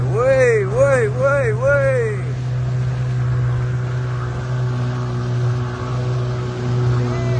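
A motorboat engine on the open sea at Sembilang hums steadily and loudly while a person calls out briefly near the start, then the engine drone carries on alone.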